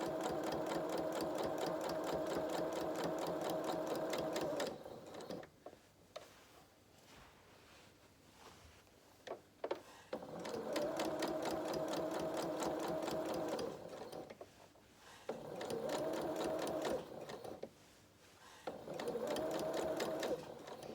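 A sewing machine stitches the curved edge of a small fabric toy body, running in several loud bursts separated by pauses for pivoting, with faint handling rustles in the gaps.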